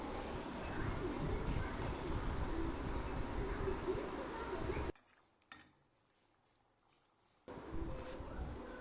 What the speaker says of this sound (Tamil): சேர்த்துட்டு நல்லா ஒரு வாட்டி கலந்து விட்டுடலாம்.